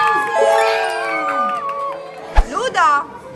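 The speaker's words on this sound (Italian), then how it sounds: "Un applauso." Cheering and excited shouting from a crowd of children and adults at a surprise birthday party for a seven-year-old girl in a family restaurant, with overlapping voices and a sharp burst near the end.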